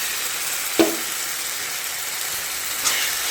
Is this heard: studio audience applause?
no